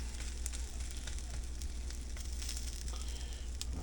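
Veggie ground fries in a pan with a steady, close sizzle that stays even and continuous throughout, with no talking over it.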